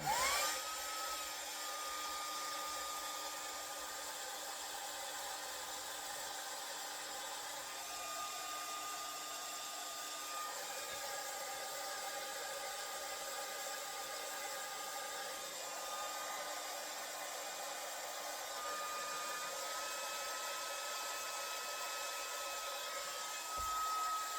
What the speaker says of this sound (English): dryer over here and dry these